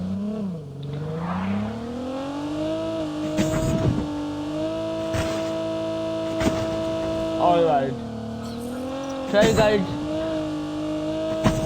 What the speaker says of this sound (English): I'm driving the car like a maniac